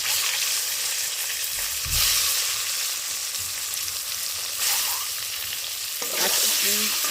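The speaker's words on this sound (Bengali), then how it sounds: "এইরকমভাবে হলুদ আর লবণ দিয়ে ভাজলে ডিমের কালারটা খুব সুন্দর হয়" Eggs frying in a pan with turmeric and salt give a loud, steady sizzle that surges in bursts as they are stirred and turned, with occasional utensil scrapes and no talking.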